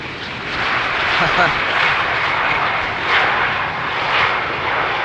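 A landing airliner roars steadily on runway 18R at Amsterdam Schiphol, its broad engine rush loud and continuous with gentle swells throughout, with faint voices underneath.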